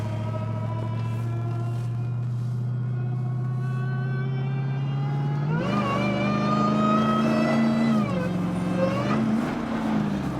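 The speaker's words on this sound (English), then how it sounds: "The engine's loud, it roars, it rumbles, but that whine just sets it all off." The supercharged Hellcat engine in a Jeep Gladiator rumbles loudly at a steady idle, then revs up partway through. Its deep growl rises in pitch with a supercharger whine on top before it settles again.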